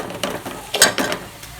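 Chili-powdered masala for Tamil egg curry sautés in a pan, giving short bursts of sizzling and scraping as it is stirred, close and fairly loud, with brief pauses between strokes.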